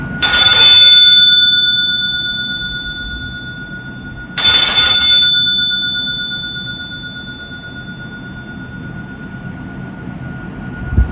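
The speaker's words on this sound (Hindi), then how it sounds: "अपना पूरा ध्यान इस बेल की ध्वनि पे लाइए।" A bell is struck twice during a meditation session, each strike bright and loud with a long ringing tone that decays slowly into quiet before the next strike, and no voices are heard.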